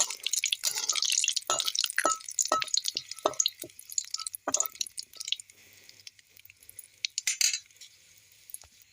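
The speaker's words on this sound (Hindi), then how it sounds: "इस तेज पत्ता को इस तेल में तब तक फ्राई करूँगी जब तक इसकी हल्की सी कलर ना चेंज हो जाए।" Bay leaves frying in hot oil in a pan, crackling and spitting with sharp pops and a hissy sizzle, busiest at first and thinning out to scattered close pops.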